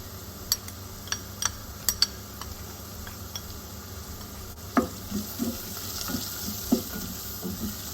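Ground cumin, turmeric and coriander fry in a pan with a low sizzle, broken by a few sharp clicks of a spoon or spatula against the pan and soft stirring scrapes, close and without talk.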